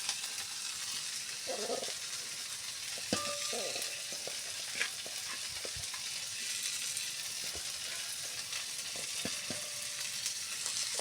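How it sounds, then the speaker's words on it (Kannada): Grated coconut goes into a pan for a drumstick-leaf tambli and gives a faint, continuous frying hiss with scattered light stirring clicks. No voices are heard. "ನಾನಿಲ್ಲಿ ಕಾಯಿ ತುರಿಯನ್ನು ಹಾಕೋತಾ ಇದ್ದೇನೆ."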